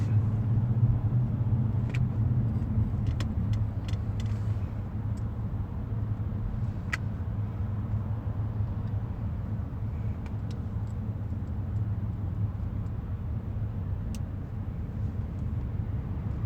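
Road traffic heard from inside a car stuck in a jam near a Chicago Bulls game: a steady low engine rumble and road drone throughout, with a few faint clicks and ticks and no talking.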